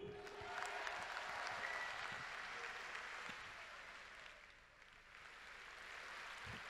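A congress audience outdoors in the sun gives a long wash of applause, softly distant and steady, dipping briefly near the end before swelling again.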